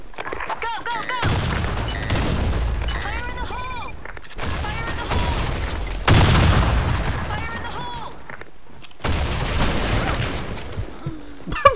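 Repeated booming blasts and gunfire bursts from grenade explosions in the Blackshot shooter game, several loud hits separated by brief gaps, with players talking over the action.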